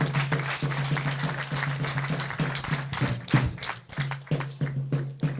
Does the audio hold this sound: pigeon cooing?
no